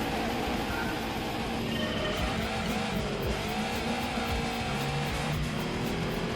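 Race cars in the video game Gran Turismo 2 drone steadily, engine tones wavering and shifting as they run, a continuous mid-level motor hum with faint tire noise and no talk.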